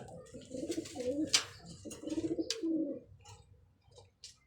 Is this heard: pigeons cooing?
yes